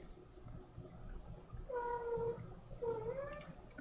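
A cat meows twice nearby, two drawn-out wavering cries about a second apart over a quiet background hum.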